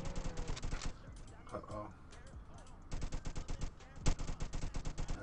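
Rapid bursts of automatic gunfire in the Roblox game Jailbreak come in two long rattling volleys around a brief pause. A voice speaks briefly in the middle.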